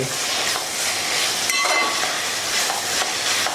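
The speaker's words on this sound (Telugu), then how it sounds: "అలాగే మిశ్రమం అంతా కొంచెం వేగిన తర్వాత అందులో కొత్తిమీరగా వేసి మరి కొంతసేపు వేయించుకోవాలి." Chicken oats shorba mixture with coriander frying and being stirred in a pan, a loud continuous sizzle with scraping stir strokes throughout, no voices.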